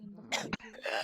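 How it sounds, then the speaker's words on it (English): A woman gives a single short, rough cough, close to the mic, set between breathy vocal noise and low room murmur in a role-play scene. "are you coughing by any chance?"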